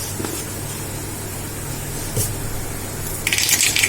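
Mustard seeds drop into hot oil and start to sizzle, a steady close frying hiss that sharpens into a brighter crackling spatter near the end, with no talking.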